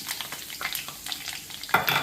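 Mustard seeds and dried red chillies sizzling and crackling in hot oil for a tomato pickle, a busy close sputter of small pops and stirring, ending in a louder burst, no talking.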